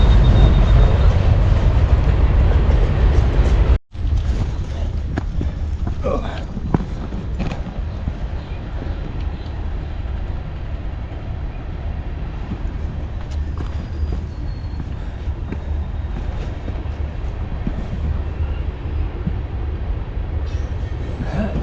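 A long freight train rolls past on rails near a hiking trail by Caribou Lake, a loud continuous rumble with creaks and metallic clatter that persists steadily for about twenty seconds after a brief sharp break early on.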